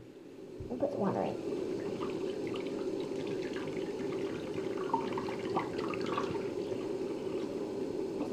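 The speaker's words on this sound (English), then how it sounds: "Put some water in." Water pours and splashes into a container close by, a continuous gurgling stream that starts abruptly and keeps going, with some faint talking under it.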